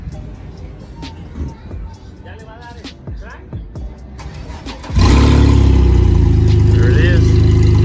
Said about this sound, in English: Car's running again.